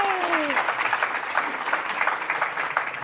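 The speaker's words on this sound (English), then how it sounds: "I think a round of applause is warranted." Applause from an audience at an economic mobility summit panel, a dense, sustained patter of many hands clapping, with a voice briefly audible at the start.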